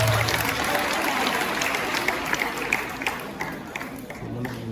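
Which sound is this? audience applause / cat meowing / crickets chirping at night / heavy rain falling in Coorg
audience applause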